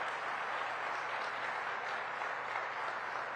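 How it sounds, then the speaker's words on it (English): Faint, distant applause from a crowd at a political event with New York Governor Hochul and President Biden, a steady soft wash of clapping heard from far off. "So I want to give a round of applause to Governor Brad Little, who's joined us."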